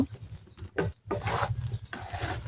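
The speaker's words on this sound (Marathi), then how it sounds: "बेरी कळायला सोडत नाही तोपर्यंत आपल्याला असंच ढवळत राहायचं आहे" Spoon stirring ghee residue (beri) around a pan in short, scraping strokes with brief pauses between them, close and fairly quiet.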